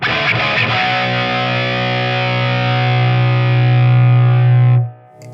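A heavy metal guitar tone runs through a Diezel VH4 distortion pedal, a thick saturated sustained chord ringing loud and steady for several seconds before a tight noise gate cuts it off abruptly.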